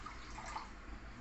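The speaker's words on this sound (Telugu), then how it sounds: "నీళ్ళు పోసేసి కుక్కర్లో పెట్టేస్తున్నాను." Water is poured over a ladleful of moong dal in a vessel for the pressure cooker, a faint, close, brief trickle and splash in a quiet kitchen.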